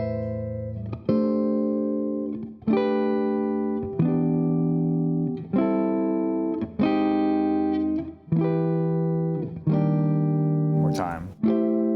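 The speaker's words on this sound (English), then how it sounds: "So I'm just going to play the chords so you can hear how they sound in context" Guitar chords strummed one after another in a lesson, each ringing out and decaying before the next, about eight changes at a steady, unhurried pace with no talking over them.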